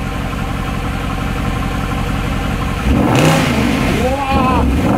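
A naturally aspirated Mercedes-Benz SLS AMG Roadster engine idles steadily, then is blipped into a few sharp, loud revs that rise and fall back, with a short pause between bursts.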